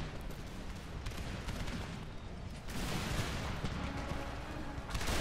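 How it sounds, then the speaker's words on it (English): Musket volleys and artillery fire in an Empire: Total War battle between British and French armies, a continuous crackling fusillade with dull booms, steady and moderately loud, growing denser partway through. "We're just trading fire back and forth."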